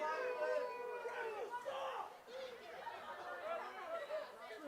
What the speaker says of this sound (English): It's a small crowd here tonight on this wet jury night, but they're definitely trying to let them hear it